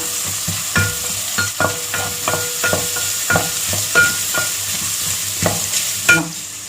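Thinly sliced onions and green chillies frying in a pan, loud close sizzling broken by regular rhythmic scrapes and knocks of a spoon stirring, with no voices.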